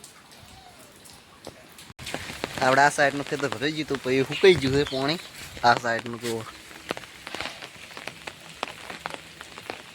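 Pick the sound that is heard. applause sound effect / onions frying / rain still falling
rain still falling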